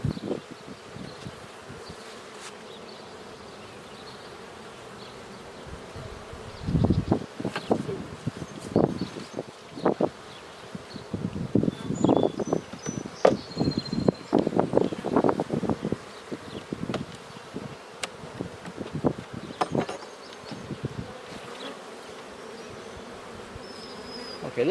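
Honeybees hum steadily around an open hive frame of capped honey and pollen during a June requeening, a continuous insect drone with louder close passes and some handling noise.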